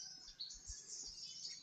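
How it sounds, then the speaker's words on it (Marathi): Sparrows chirp faintly in a quiet cashew orchard in the Konkan on a still morning, their thin high calls overlapping softly in the distance. "चिमण्यांचे आवाज येत आहेत."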